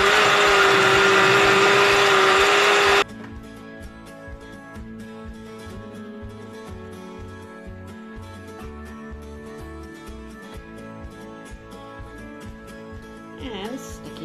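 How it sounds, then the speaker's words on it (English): A blender runs loud and steady for about three seconds blending canned tuna for frozen cat treats, then cuts off, leaving quieter kitchen sounds and music. "stick it in a blender,"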